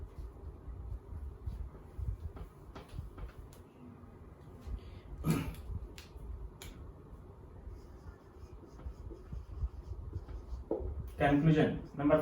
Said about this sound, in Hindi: तो मैं कंक्लूजन लिख रहा हूं